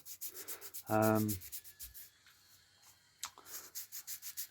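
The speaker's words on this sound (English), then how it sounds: "I'm just finishing this off with some 320 grit sandpaper on the inside" Hand sanding the inside of a skateboard deck ring with 320 grit sandpaper: close, rhythmic rubbing strokes, broken by a brief loud tonal squeak, a short pause, then steady strokes resume.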